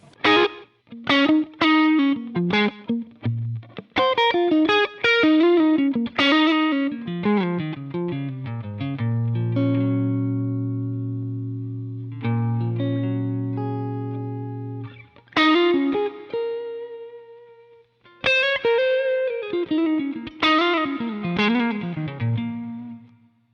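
Electric Strat-style guitar played through a Line 6 Helix with the reverb switched off, dry and distorted, with quick picked melodic runs, a long sustained chord ringing out in the middle, then more phrases, close and loud with no talking.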